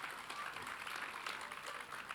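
An audience at an insurance leadership talk clapping, a continuous, even patter of many hands with no breaks, moderately distant and soft.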